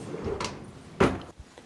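A kitchen drawer slides and bumps, with a soft scrape followed by a sharper knock as it shuts, then a small tap, close and fairly clear in a quiet room.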